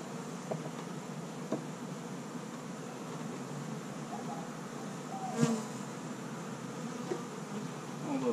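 Honey bees buzz steadily around urban backyard hives on a DIY hive stand, a dense, continuous drone close by with individual bees passing near now and then, and no talking.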